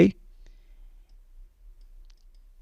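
A single sharp mouse click lands right at the start, followed by near silence with only a low faint hum.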